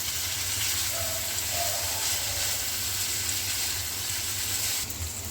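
Chopped carrots sizzling in a pan for chicken vegetable spaghetti, a continuous, fairly loud hiss with a low rumbling bed and no voices.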